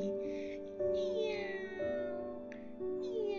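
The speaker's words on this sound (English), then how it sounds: "She meowed and purred past her sleeping baby brother's room." A cat meows several times in a row, drawn-out tonal calls that overlap with a steady background tone, close and fairly clear.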